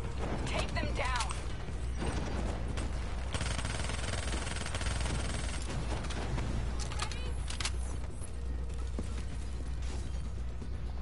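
Gunfire against a robot enemy in the video game Call of Duty: Black Ops III comes in rapid mechanical bursts and clatters over a steady low hum, with game effects mixed in throughout.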